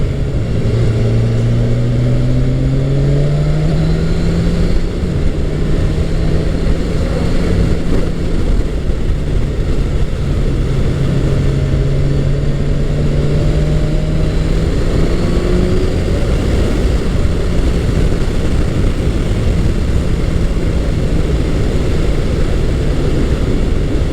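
A Kawasaki Ninja 1000SX inline-four engine pulls hard through clutchless quick-shifter upshifts, each rising whine stepping down in pitch at the shift, loud and steady under heavy wind roar.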